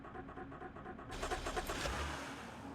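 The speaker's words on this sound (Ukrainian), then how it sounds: "Давай заведемо двигуна." A BMW X5's engine being cranked over to start, a rhythmic mechanical churning that steps up into a louder, fuller roar partway through, close and without any talking.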